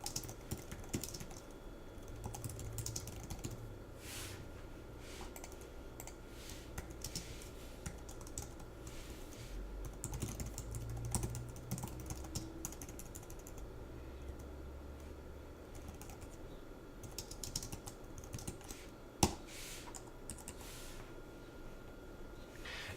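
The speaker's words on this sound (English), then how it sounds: "Let me type here for a minute." Soft computer keyboard typing as code is entered, a long run of uneven clicking bursts separated by short gaps, faint and close, with one sharper key strike near the end.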